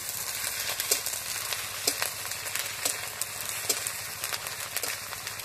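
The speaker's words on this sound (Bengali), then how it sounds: "শুকনো লঙ্কা বাটা, আদা বাটা, ভালো করে এইভাবে নাড়ব।" Dried chili paste and ginger paste fry in hot oil in a pan for Bengali-style fried rice, a steady close sizzle broken by repeated scraping stirs at a fairly even rhythm, no voices.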